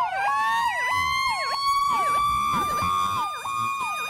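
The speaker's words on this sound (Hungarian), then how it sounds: "sem pedig a forgó rotátoros szirénát, ami most következik" A rotary rotor siren of the kind used on fire trucks, spun by a 12-volt motor, gives a loud, close, wailing tone that dips and climbs again in a regular repeating rhythm.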